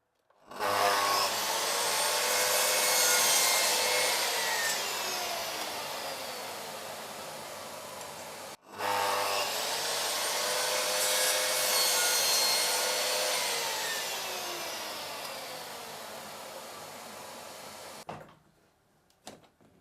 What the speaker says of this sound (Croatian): usisivač će raditi još nekih par sekundi da bi se osiguralo da je pokupio svu prašinu